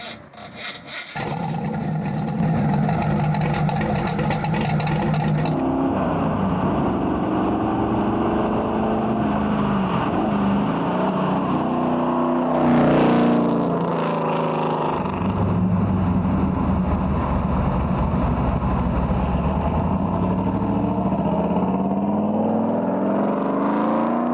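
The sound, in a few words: De Tomaso Pantera GT5 Ford Cleveland V8 engine and exhaust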